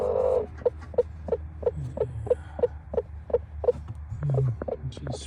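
A brooding hen sitting on eggs gives a steady run of soft, evenly spaced clucks close by, about a dozen pulses, over a low background hum.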